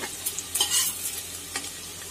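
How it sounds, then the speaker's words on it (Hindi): Onions fry in hot oil in a pan, turning golden for an arbi and capsicum dish, while a spoon stirs and scrapes with quick clinks over a steady close sizzle. "प्याज हमारी गोल्डन होने लगी, तो थोड़ा सा और गोल्डन करेंगे।"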